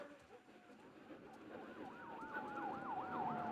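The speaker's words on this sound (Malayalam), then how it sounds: "ഓ, പോലീസൊക്കെ പോകുന്ന ശബ്ദം കേൾക്കാം." Wailing police sirens pass through a city street in The Last of Us Part 1, a rising, looping wail that swells from faint to clearer over a low rumble of ambience.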